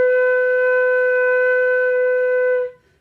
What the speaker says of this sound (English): And here again is what B sounds like.